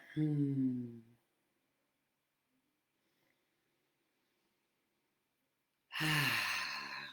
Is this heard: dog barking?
no